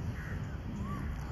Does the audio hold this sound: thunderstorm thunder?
no